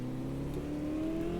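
A race car engine in the Automobilista 2 racing sim drones steadily at a sustained, even pitch for a moment, with a whirring tone and a slight rise in revs, no voices.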